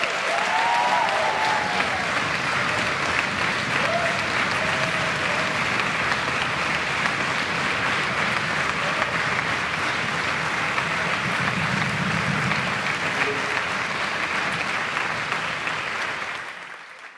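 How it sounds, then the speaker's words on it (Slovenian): Sustained audience applause at the MusiKras 2023 concert, honouring the conductor of the Komen wind orchestra; a dense, steady wash of clapping holds loud for about sixteen seconds before cutting off abruptly. "En velik aplavz"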